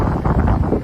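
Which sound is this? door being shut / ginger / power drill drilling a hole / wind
wind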